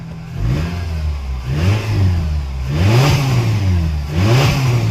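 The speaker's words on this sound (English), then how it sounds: "Engine is running." A 2009 Nissan Versa engine revs up and back down several times in close succession, loud and nearby, with a small exhaust leak present; no one speaks.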